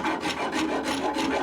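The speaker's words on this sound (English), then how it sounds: "You can see how easily this rasp takes the wood off." A hand rasp files along the belly of a wooden longbow to carve a D-shaped cross-section, giving a steady run of close, loud rasping strokes in an even back-and-forth rhythm with no voices.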